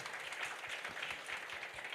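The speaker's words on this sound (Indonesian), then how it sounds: "Tepuk tangan dulu yang sudah mengerti sekarang" Congregation applauding during a church worship service, steady dense clapping at moderate distance throughout, with no voices standing out.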